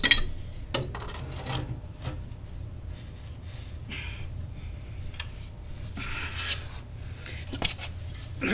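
A pipe wrench grips and turns the tailpiece extension under a utility sink, giving scattered close rasping and scraping rubs with small metallic knocks over a low background hum.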